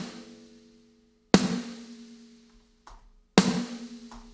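Two sharp snare drum hits from Dan Korneff's Back to School sample, each with a bright crack and a ringing room tail that decays over about a second, spaced roughly two seconds apart with silence between.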